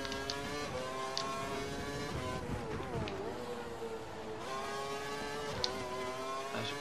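A Formula 1 race car engine in the video game F1 2012 on the Belgian Grand Prix circuit screams at high revs, pitch climbing through gears and dipping on downshifts, steady and continuous with no speech.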